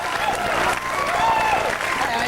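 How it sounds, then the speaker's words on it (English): A studio audience on a live 1997 American TV program applauds, a dense wash of clapping that fills the short moment while a host's voice carries over it. "Give her a round of applause."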